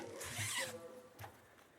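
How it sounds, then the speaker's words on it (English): A zipper closes a mesh laundry bag holding a pair of shoes, a short raspy pull up close followed by a brief second zip stroke, with faint rustling. "You can just zip it up, toss those in."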